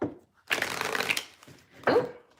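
Playing cards riffle-shuffled in two quick bursts, a long rustling flutter followed by a shorter one after a pause, close and fairly quiet.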